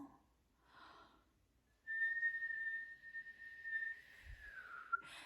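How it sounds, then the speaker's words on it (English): A man whistles the high, lilting part of a song, a clear sustained tone with small trills, starting after a brief breathy pause and carrying on steadily at close range for several seconds. "He began to whistle the high lilting part of the Song of the Sun"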